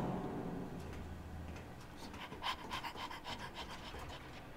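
A dog pants in the horror video game Layers of Fear 2, a steady close breathy rhythm that grows briefly louder partway through, with no talking over it.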